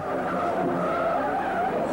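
A Ford with bad brakes skids in a film scene, its tires squealing in a steady, loud screech that lasts the whole moment over engine noise.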